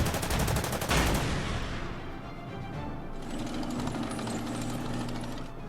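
Artillery firing in the Order of Battle: Panzerkrieg war game, with a loud opening blast and a rapid, rattling burst of shots that trails into a sustained crackling roar.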